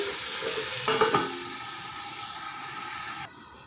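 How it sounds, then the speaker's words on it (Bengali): Chicken feet sizzling steadily in a hot pan while being stirred, with a couple of louder scraping stirs early on before the frying hiss cuts off. "নাড়াচাড়া করতে হবে।"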